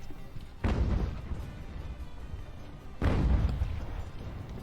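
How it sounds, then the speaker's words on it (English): Two heavy booming bursts of artillery fire from an Age of Sail land battle in Ultimate Admiral, each a sharp low thump with a rumbling tail, spaced a few seconds apart over a steady battlefield din. "Give more opportunity for my artillery to hit them."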